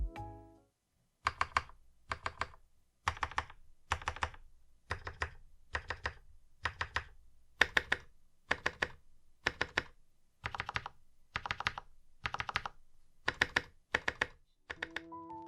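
Someone types on a budget TKL custom mechanical keyboard with lubed switches, making close, crisp clacky keystrokes in quick rhythmic bursts separated by short pauses, with no talk.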